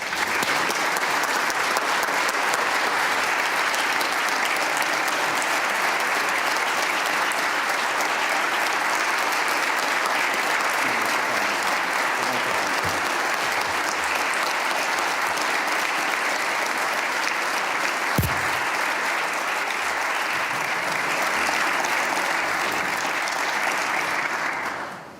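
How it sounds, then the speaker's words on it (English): Audience at a state legislature address for the State of the Tribes breaks into sustained, dense applause that stays loud and even for roughly twenty-five seconds before tapering off at the end. "Let's give her a round of applause."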